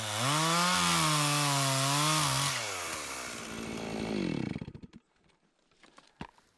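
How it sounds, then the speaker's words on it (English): A 60cc chainsaw limbing a felled fir tree, its engine snarling loudly at high revs up close, then dropping in pitch and sputtering down to idle, followed by a few faint knocks. "I'm going to limb a little bit with this 60cc saw"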